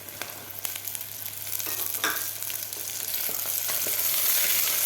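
Fresh peas sizzling and frying with spices in a pan for cashew pea pulao, a steady crackling hiss with occasional stirring scrapes, close and fairly loud, no voices.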